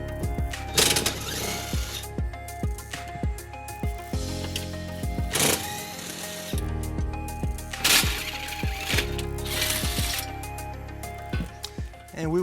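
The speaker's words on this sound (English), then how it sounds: "We're gonna remove those using a 14mm socket." Ratchet and 14mm socket backing out the tow hook bolts on a 2010 Kia Soul, rapid ratcheting clicks and metallic scrapes in close bursts separated by short pauses.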